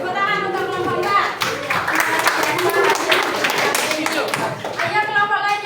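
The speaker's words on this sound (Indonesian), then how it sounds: "Tepuk tangan untuk kelompok 4" A classroom of students claps for a presenting group, a lively burst of clapping with children's voices chattering over and between the hands.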